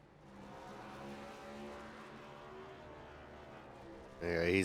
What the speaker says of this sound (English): he is going to celebrate in style with some burnouts here on the front straight